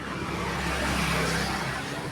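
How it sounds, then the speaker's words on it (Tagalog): Noisy roadside traffic with cars passing close by, a loud continuous engine rumble and tyre roar that swells slightly midway. "maingay ang mga sasakyan"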